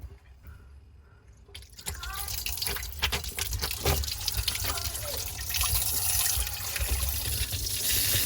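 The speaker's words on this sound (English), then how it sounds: "If you're wondering why water splashed out, I had the quarter turn valves open." Water splashes and rushes from open quarter-turn valves under a water-damaged kitchen cabinet, starting abruptly and continuing as a loud, steady spray with drips, while voices talk faintly in the background.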